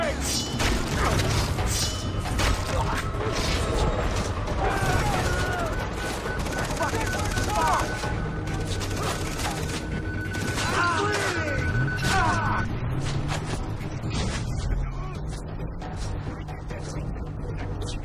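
Chaotic Far Cry 3 firefight around a gas tank exploding, with dense gunfire bursts, booms and crashing debris running continuously under a talking voice.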